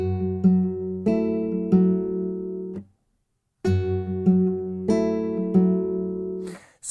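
Classical guitar plays a passage of Canon in D, ringing plucked notes and chords in two phrases separated by a brief silence, close and clear with no talking.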